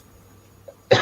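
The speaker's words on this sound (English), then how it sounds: "Oh God, I'm coughing" One sharp cough bursts out close and loud near the end, after a brief quiet stretch with only a faint murmur.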